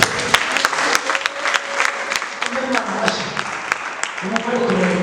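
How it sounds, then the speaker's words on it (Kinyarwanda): A church congregation claps together, a dense run of sharp hand-claps with rhythmic peaks, while a preacher's voice carries over it throughout. "amashyi"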